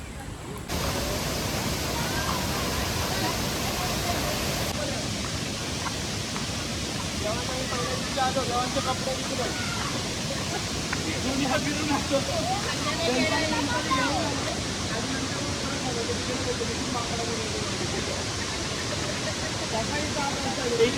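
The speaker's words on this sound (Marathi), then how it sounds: "नदीचा फ्लो आणि आवाज बघा किती छान वाटतोय." River water flows past a dam in the Konkan countryside with a steady, dense rushing roar that runs unbroken and loud throughout, close to the listener.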